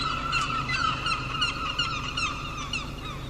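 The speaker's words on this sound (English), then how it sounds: "the seagull that's just making this noise is just up here on the Panmure Market" A seagull calls nearby at Panmure Market, giving a run of repeated, harsh, honking cries that stay fairly loud and close with no talking.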